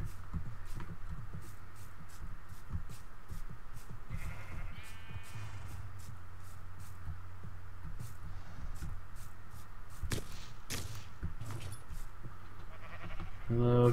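Sheep in the Minecraft video game bleat repeatedly in short calls over a steady background, with a player talking between them and a louder burst near the end.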